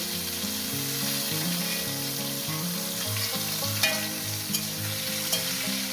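Potatoes frying in a pan while being stirred, with a steady sizzle and a few sharp clinks of a utensil against the pan. Faint background music plays throughout, and no one speaks.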